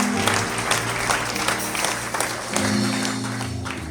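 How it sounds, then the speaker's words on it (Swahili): A church congregation at a New Year thanksgiving service applauds for Jesus, steady dense clapping filling the whole stretch at full strength over faint low background tones. "Tumpigie Bwana Yesu makofi."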